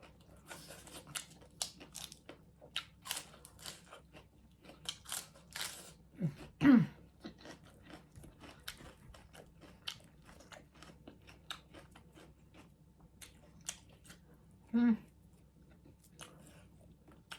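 Crispy fried sun-dried pork being chewed close up, with irregular crunchy bites and mastication spread over the clip, a few louder crunches standing out, quiet between.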